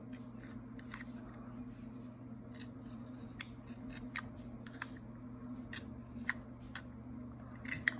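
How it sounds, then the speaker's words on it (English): A knife blade scraping and shaving the tip of an ordinary pencil, close up, in a run of short sharp scrapes and clicks that recur irregularly over a steady low background hum. "make sure to use your knife and sharpen the tip of your pencil"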